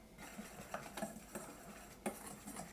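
A spoon stirs a dry breading of cornstarch, flour, salt and ground black pepper in a bowl, giving quiet, soft scrapes and light clinks in an irregular rhythm, close and faint.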